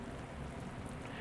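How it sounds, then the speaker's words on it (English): Steady rain falls in the video game Synergia, a soft continuous hiss of drops on a surface, faint and even throughout with no voices. "There's nothing as nice as a rainy day."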